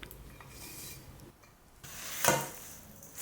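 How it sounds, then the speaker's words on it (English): Squash brownie batter of flour, cocoa and sugar being stirred and mixed by hand, giving a soft, faint scraping and rubbing texture with one brief louder scrape near the end. "Now mix it very well"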